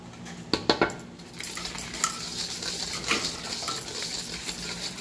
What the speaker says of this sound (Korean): 골고루 이렇게 섞어주세요